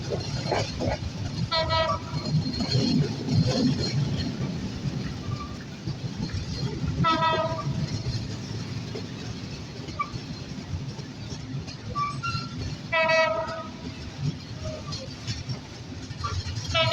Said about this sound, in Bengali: বাংলাদেশ রেলওয়ের ইতিহাস করা আন্তনগর সিটি এক্সপ্রেস প্রবেশ করছে তার যাত্রাপথের যাত্রাবিরতি স্টেশন জয়দেবপুর